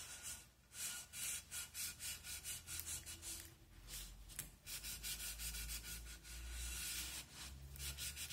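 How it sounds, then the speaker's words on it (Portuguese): A cloth rubbed firmly back and forth over a glued label on a glass bottle to smooth it, a soft rhythmic swishing scrape repeating in steady strokes, close and quiet, no talk. "Tem que passar um paninho aqui pra alisar"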